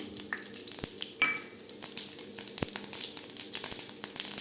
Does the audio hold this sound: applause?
no